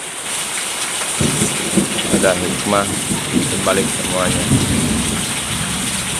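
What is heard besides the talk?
rain falling with thunder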